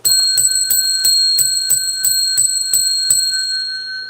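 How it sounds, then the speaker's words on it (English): A set of bells rung by a livestream host, struck about nine times in a steady, evenly spaced rhythm, loud and close, each bright metallic ring overlapping the last, with no talking. "All right, I'll ring the bells."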